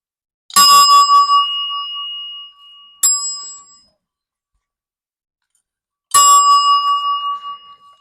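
A telephone bell rings three times, bright and metallic, each ding ringing out and fading into silence before the next.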